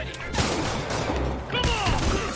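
Rapid bursts of gunfire from armed thugs in a Spider-Man video game, loud and continuous, with shouting voices mixed in over the shooting.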